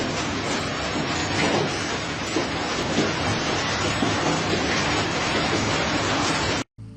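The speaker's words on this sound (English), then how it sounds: "could only watch in fear as hail battered their yard." Hail pelts a yard in Vicenza, Italy, during an intense July 2023 hailstorm: a dense, loud, unbroken roar of stones striking the ground that holds steady for the whole stretch, then cuts out abruptly near the end.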